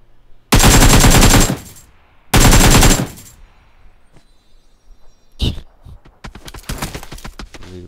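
Two loud bursts of automatic gunfire in PUBG Mobile, each lasting about a second, followed by scattered single shots and a rapid string of quieter shots, with players talking.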